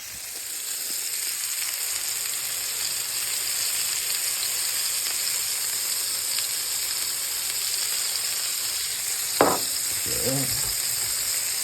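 A Schweid & Sons Signature Blend burger patty sizzles steadily on a hot pan after being flipped, a close, continuous frying hiss with a brief scrape near the end.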